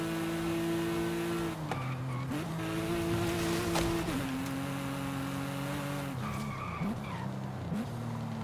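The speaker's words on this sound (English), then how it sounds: "Oh, I got wheel spinning. Need to be careful." Racing cars in Forza Horizon 5, a Porsche 911 GT2 RS against a Ferrari F12TDF, with steady engine drone, shifting revs and tire squeal from wheelspin throughout.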